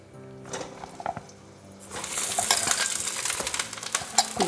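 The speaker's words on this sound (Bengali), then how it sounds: "পটলগুলো আমি কড়াইয়ে আস্তে করে ছেড়ে দিলাম" Washed, drained pointed gourd (potol) is dropped into a kadai of hot oil over a high flame. After a few soft clinks, a loud, continuous sizzle breaks out and holds steady.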